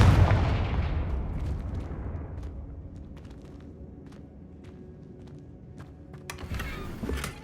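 A Confringo fire blast spell in the video game Hogwarts Legacy, a loud booming burst that decays into a long rumbling tail, followed by scattered sharp cracks and a renewed swell near the end.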